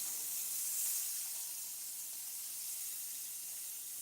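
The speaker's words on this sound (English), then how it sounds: "Broccoli. Just gonna cook it just a little bit." Broccoli cooking in a hot pan, giving off a soft, continuous hiss and sizzle that stays fairly quiet and even, with no voices.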